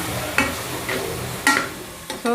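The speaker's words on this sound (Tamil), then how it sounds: "ஸோ தக்காளி வதங்க ஒரு 2 நிமிஷம் ஆகட்டும்" Tomatoes sautéing in a pan for a mushroom biryani, with a steady low frying hiss and three sharp scrape-and-knock strokes of a stirring utensil against the pan.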